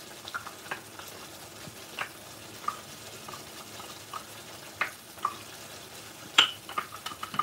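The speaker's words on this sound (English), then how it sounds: "I think it's time for the onion paste." Onion paste frying in a pot for a Madras curry, giving a quiet, steady low sizzle broken by scattered soft pops and ticks.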